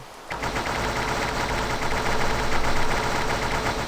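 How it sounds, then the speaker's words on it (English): Rapid, continuous burst of machine gun fire from the Minecraft video game, a dense rattling stream that starts abruptly and runs loud throughout. "Now everyone can hear my machine gun."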